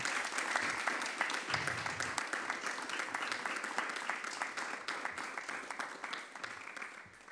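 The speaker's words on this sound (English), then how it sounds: "I would like to give a very warm applause to Professor Zeilinger" An audience gives Professor Anton Zeilinger warm applause as he is invited onto the stage for a fireside chat, with sustained, fairly quiet clapping from many hands that tapers slightly at the end.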